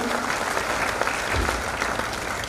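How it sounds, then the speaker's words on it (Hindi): An audience at a public welcome event in Udaipur breaks into loud, sustained applause for a visiting governor, dense continuous clapping filling the hall with faint crowd murmur underneath. "एक बार जोरदार तालियां बजाकर काफी स्वागत करें"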